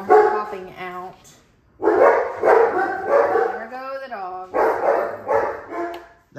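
Dogs bark in short bursts in the background of a home where pet geckos are kept, mixed in with someone talking close to the microphone throughout.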